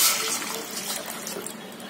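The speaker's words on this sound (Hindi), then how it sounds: "हम ये पानी डालेंगे।" Water is poured into a pot to boil for Hyderabadi Irani dum chai. A steady splashing stream runs close and loud and fills the whole short stretch.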